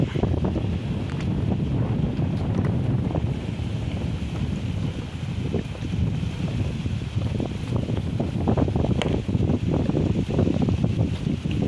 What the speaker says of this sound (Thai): ลมแรงนะครับผม